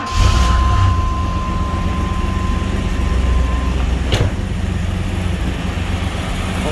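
A 1992 Pontiac Trans Am's large engine, running rich, cranks and catches, settling into a loud, steady, low rumbling idle with a sharp click partway through.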